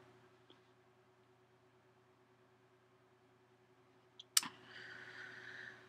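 A computer mouse click while working in Photoshop, one sharp click near the end over a faint steady hum, followed by low background noise.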